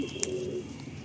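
Madrasi pigeons coo softly in a low, rounded murmur, a brief steady warble with a faint sharp chirp near the start, close by and alone.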